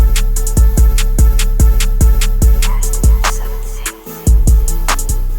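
Hip-hop beat with kick drum, 808 bass and melody all mixed at the same level, a dense, loud, cluttered loop where steady kicks blur into the booming bass and bright melodic hits, briefly dropping out near the end.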